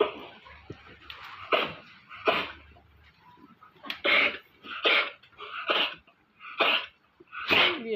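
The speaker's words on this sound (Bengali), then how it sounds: "অনেক কাশি হয়েছে তো" A pet goat coughs repeatedly, about eight harsh, raspy bursts spaced irregularly and heard up close in a quiet setting.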